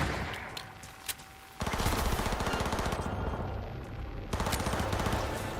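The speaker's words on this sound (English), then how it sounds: "All units report. Opening fire." Automatic gunfire as units open fire in Cyberpunk 2077: a quieter stretch with a couple of isolated shots, then two long rapid-fire bursts of loud, tightly spaced rattling reports.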